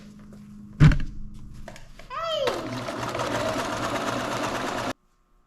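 A sewing machine stitches fabric for a custom motorcycle tent, starting after a sharp thunk and a short whir and then running in a steady close whirring buzz for a few seconds before stopping abruptly, with a voice briefly heard.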